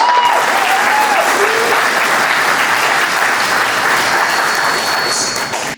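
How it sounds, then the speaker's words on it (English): Loud, sustained applause from a community fundraising crowd honoring two women on the organizing committee, steady dense clapping that fills the room and cuts off abruptly at the end, with a few voices calling out early. "let's give those two ladies a round of applause"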